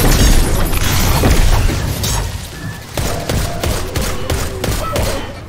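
Gunfire in the Destiny 2: Lightfall video game, rapid loud bursts of shots and booming impacts crowding together, then thinning into separate sharp cracks.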